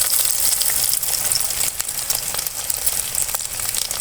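Onions fry in hot groundnut oil with spluttered mustard seeds, making a continuous, close crackling sizzle with small pops throughout.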